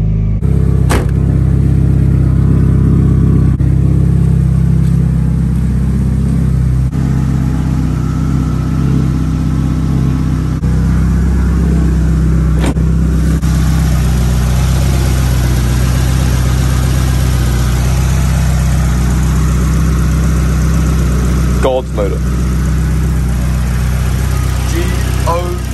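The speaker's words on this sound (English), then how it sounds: "In the background, it's the S13 driving, running, so hyped." A turbocharged SR20 engine in a Nissan S13 runs at a steady idle, a continuous low rumble under outdoor background sound, with a few brief clicks and knocks on top.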